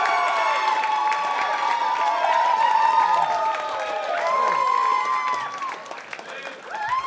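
A comedy club audience applauds and cheers loudly for comedian Sam Stover, a dense continuous wash of clapping and whoops that swells and then gradually thins out.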